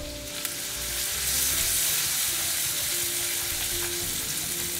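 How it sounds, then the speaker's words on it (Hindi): Ginger and green chillies fry with cumin in a pan, giving a steady, close hiss of sizzling oil that swells slightly and holds, with no one speaking. "अदरक और हरी मिर्च भी भून रही है।"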